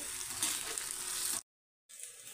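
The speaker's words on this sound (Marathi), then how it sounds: "तर आता आपल्याला हे साबुदाणे थोडेसे परतवून घ्यायचे आहेत।" Soaked sabudana being sautéed with potatoes in a pan, a soft close sizzle and stirring that cuts out briefly before returning.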